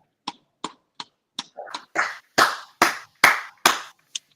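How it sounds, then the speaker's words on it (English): A few people clap in sparse, separate bursts for a team coach at a championship celebration, about ten distinct claps that grow fuller toward the middle before one last lone clap, close and with no talking. "So y'all give a big hand clap"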